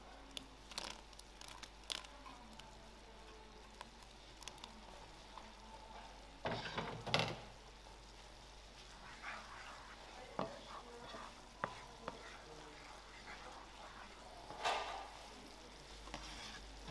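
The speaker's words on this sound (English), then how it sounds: "Again, you stir them very gentle." Homemade gnocchi stirred gently in a frying pan, giving faint, intermittent scraping and soft sizzle at a low level, with a few louder clattering stirs standing out now and then.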